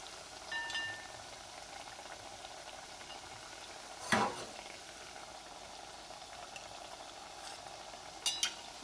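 Potato cutlets fry in hot oil for a veg kids' lunch box, a soft continuous sizzle with a couple of brief clinks of a utensil against the pan.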